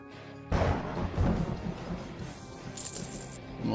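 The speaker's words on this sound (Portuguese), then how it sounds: "Já ouço os trovões." A deep, rolling rumble of thunder breaks out suddenly in the zombie survival game 7 Days To Die, staying loud and broad for several seconds with a brief sharper crackle near the end and no talk.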